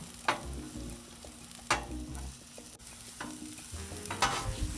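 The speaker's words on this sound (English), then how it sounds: "we are going to put down some onions" Sliced onions sautéing on a Blackstone griddle, a soft steady sizzle broken by a few sharp scraping strokes of a spatula against the flat-top, close and fairly quiet, with no talk.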